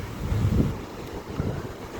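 Icy glacier-fed river in a Himalayan valley rushing past in a steady low roar, with gusty wind buffeting the microphone and no voices.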